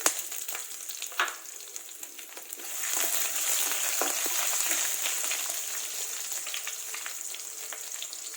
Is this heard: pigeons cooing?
no